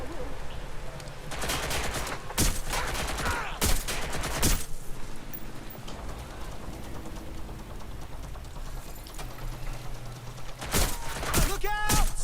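Video game gunfire in Watch Dogs Legion: loud bursts of automatic fire and sharp shots break out in clusters over a steady ambient bed of game sound, with a final rapid volley near the end.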